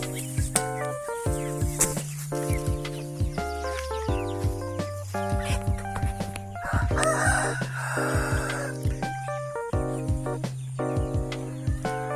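Chickens in a large coop on a Thai farm where young chicks are being moved in. Roosters crow repeatedly and hens cluck close by, a busy, overlapping chorus with no talk.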